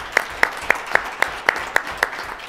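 Clapping at a St. George city council meeting, about eight sharp, evenly spaced claps in a steady rhythm over quiet room noise.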